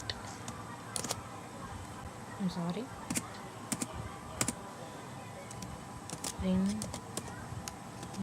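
Sparse computer keyboard keystrokes from someone typing Python code, arriving as scattered light clicks over a low room hum, with faint voice sounds in between.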